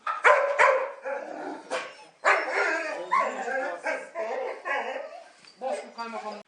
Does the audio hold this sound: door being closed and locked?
no